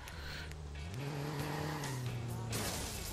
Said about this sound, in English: Why the fuck did my car spin out for no reason?